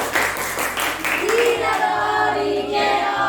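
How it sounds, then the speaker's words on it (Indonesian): A classroom of pupils claps briefly after a lesson presentation, a short patter of hands mixed with a teacher's voice and some overlapping chatter. "terima kasih, tepuk tangan dong untuk Alifah."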